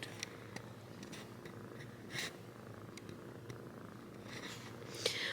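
A cat purrs softly in a lap, a steady low continuous rumble close to the listener, with faint occasional clicks and rustles and no talk.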